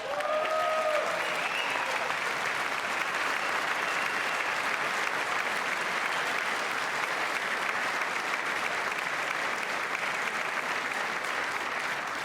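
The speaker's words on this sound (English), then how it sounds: "I wasn't sure if anybody even on this side was going to applaud for that." Sustained, dense applause fills the House chamber during the State of the Union address, a steady roar of many hands clapping with no pause.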